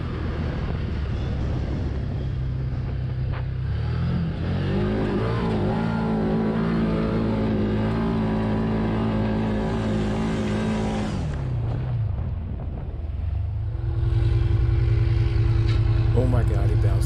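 ATVs climbing a sand pit: a loud, close engine drone that climbs in pitch and holds a strained high rev for several seconds, drops back, then swells again into a heavier roar.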